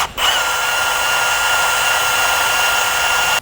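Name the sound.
drill pre-oiling Ford engine with 1/4 inch socket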